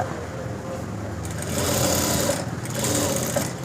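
A sewing machine stitching a school uniform coat hums in a continuous, fairly loud run, rising in intensity partway through, with no speech over it.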